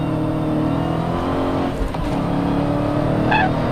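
A Dodge Challenger Hellcat pulls hard in second gear, its engine a loud, sustained droning roar with a brief dip near the middle before the power resumes, heard from inside the car.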